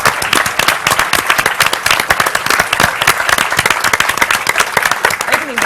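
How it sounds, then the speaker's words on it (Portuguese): A loud, close round of applause from a theatre audience, many hands clapping in a brisk, steady patter that carries on evenly without letting up. "umas palmas para a porta 33."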